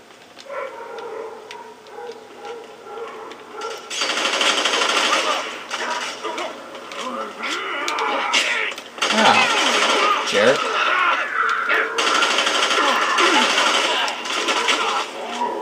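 Rapid gunfire bursts from the shooter game Fear 3 crackle in repeated volleys, fairly loud and dense, running under excited talking voices for most of the stretch.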